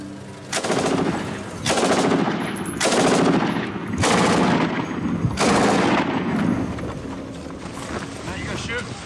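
Repeated bursts of automatic gunfire during target shooting in Libya, five or six loud close volleys each lasting about a second, separated by short pauses.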